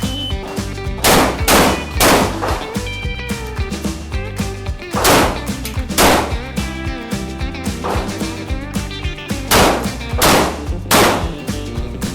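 A Saricam shotgun fires loud, booming shots again and again in an uneven rhythm, with ringing echoes between blasts and no talking.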